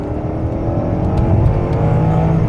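Genesis sedan engine blipping as it downshifts while slowing to a stop, a steady close cabin drone with rising rev swells, no talk.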